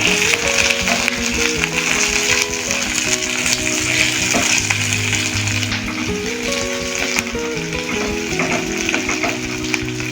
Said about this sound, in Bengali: পেঁয়াজটা খানিকটা ভাজা হয়ে গেছে